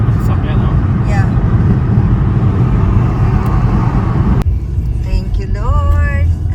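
Heavy road traffic with many cars rushes past in a loud, continuous roar heard from inside a moving vehicle, with people talking over it.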